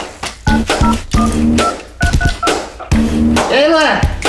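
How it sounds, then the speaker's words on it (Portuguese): Telephone keypad dialing tones sound as a series of short beeps in quick groups, mixed in with close talking voices. "deixa eu ligar pro pessoal aqui"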